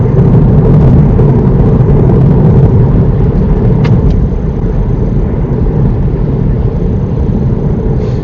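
A car accelerates up to 60 mph on a single carriageway approaching a roundabout in Burscough, heard as a loud, continuous low engine and road rumble from inside the cabin with no talk.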